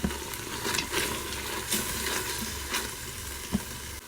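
Spices sizzle briefly in the hot oil of an Instant Pot for a cauliflower coconut curry, a soft steady frying hiss with a few light stirring taps, close and fairly quiet.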